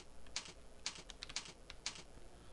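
Quiet, close keystrokes on a computer keyboard come in small irregular clusters of light clicks over a faint background hiss, with no voices.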